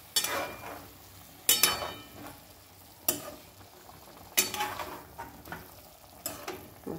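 Chicken curry in a pan on home cooking heat, stirred in several sharp scraping bursts over a steady close sizzle, the stirring strokes coming roughly every second or so with quieter frying between them.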